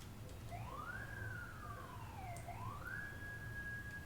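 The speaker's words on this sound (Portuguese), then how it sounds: "Acho que eles estão testando a sirene hoje." A police siren being tested wails, sweeping up and down in pitch and then holding a steady high tone, fairly faint and distant over a low background rumble.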